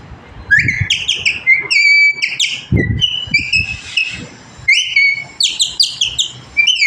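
A parrot calling: loud, close, repeated sharp whistled squawks in quick clusters, with a short pause partway through and a low thump near the middle.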